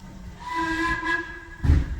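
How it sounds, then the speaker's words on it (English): A heritage steam locomotive on the Mid Hants Railway sounds its whistle, a steady bright multi-tone blast lasting about a second and a half, loud and close, over background hiss with a low thump near the end. "and the whistle from the engine"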